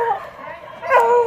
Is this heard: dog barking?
yes